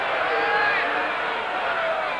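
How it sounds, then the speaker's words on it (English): A football stadium crowd at a 1978 CFL game between the Ottawa Rough Riders and BC Lions reacts to the ball's placement with a steady, distant roar of many voices, and a voice speaks over it. "Crowd reacts because of the placement of the ball."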